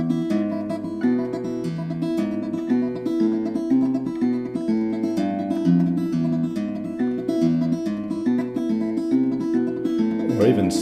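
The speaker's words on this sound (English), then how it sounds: "we could add the 3 fingers in between each of the bass notes" Slow fingerstyle guitar tremolo, three fingers picking repeated treble notes between each bass note, a continuous rippling stream of plucked strings at a steady, moderate loudness, close up with no voice over it.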